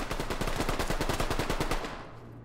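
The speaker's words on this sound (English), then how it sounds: "I keep getting shot through walls." Automatic gunfire in the tactical shooter Ready or Not, a loud, rapid burst of evenly spaced shots lasting about two seconds before it stops and a faint background hum remains.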